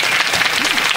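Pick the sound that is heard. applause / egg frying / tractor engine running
applause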